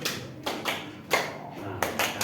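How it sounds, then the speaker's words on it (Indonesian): Hands clap in short, sharp bursts, spaced apart as a group counts out beats in a classroom rhythm game. The claps ring out fairly close and clear. "Oke, sekarang terakhir tepuk lima."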